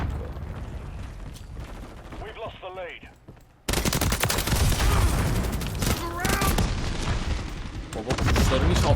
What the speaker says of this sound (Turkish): Bam bam bam ateşliyorlar ya.